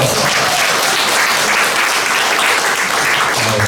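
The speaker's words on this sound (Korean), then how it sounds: "박수 한번 주세요" Audience applause at a book concert for an author, dense and steady throughout, loud and close with no break.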